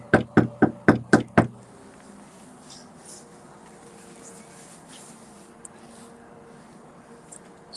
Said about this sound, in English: I have to knock a lot here. I don't like knocking that hard